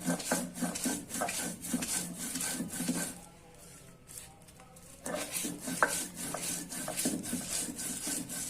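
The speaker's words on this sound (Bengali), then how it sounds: "তারপরে মরিচ, রসুন, ধনিয়া পাতা, এগুলো বাইটা নিব" Chilli, garlic and coriander leaves being ground on a stone for a small river shrimp bharta, a loud rhythmic scraping rub back and forth, pausing briefly midway before resuming.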